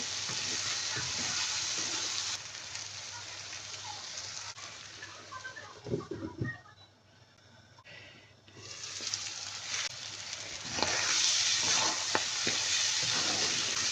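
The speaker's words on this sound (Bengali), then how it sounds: "ঢাকনাটা উঠিয়ে কিছুক্ষণ পর পর নেড়ে দিতে হবে।" Beef brain fries in a pan as a lid is lifted and the pieces are stirred, giving a steady sizzle with scraping stir sounds, a quieter dip midway, then louder crackling.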